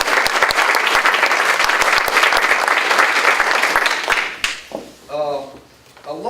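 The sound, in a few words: audience applause at press conference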